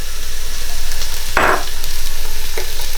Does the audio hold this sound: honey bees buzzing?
no